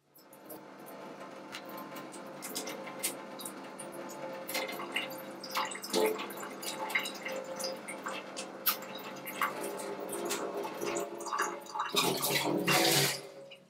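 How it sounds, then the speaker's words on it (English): Saline water from a neti pot nasal rinse drips and trickles steadily into a sink, a close continuous wet splashing with scattered louder drops and a fuller gush near the end. "So if it starts dripping out your mouth, you just let it come out."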